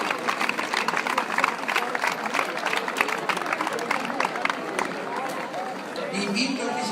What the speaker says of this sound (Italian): Ora gli fate un applauso.